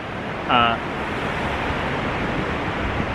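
A broad, steady roar of rushing water at Kootenai Falls, Montana, fills the scene, heard from a bridge, constant and loud, with a brief voice breaking through near the start.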